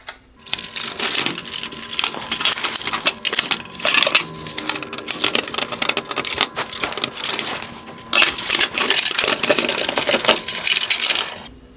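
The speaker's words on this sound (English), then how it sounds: "I'm going to go ahead and start releasing those clips and pop off this bezel" Plastic clips snapping and clattering as a black bezel is popped off a 2018-2020 Range Rover Velar OEM LED headlight, a dense, close run of sharp clicks and cracks with no talk.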